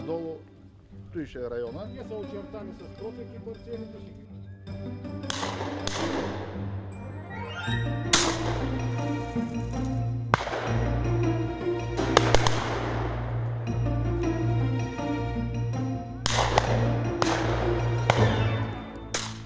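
Shots fired at high-flying pheasants on a hunt with eleven participants: a series of sharp, distant bangs with echoing tails, spread irregularly through the clip and heard under continuous narration.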